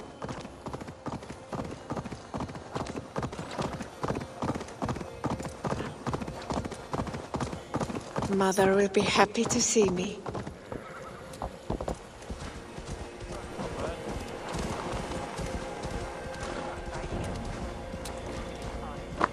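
A horse's hooves clip-clop at a steady walking rhythm in the Viking-age world of Assassin's Creed Valhalla. Someone speaks briefly midway, and the even, close hoofbeats continue softly beneath ambient sound.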